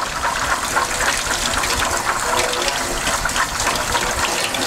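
Red beans are rinsed under running water, a steady close gushing stream that continues without a break throughout.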